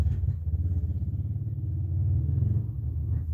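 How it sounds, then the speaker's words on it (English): A dirt bike being test-ridden back and forth outside after repairs, its engine a low pulsing rumble heard from a distance, steady and droning with no one talking. "he's driving back and forth testing his motorcycle"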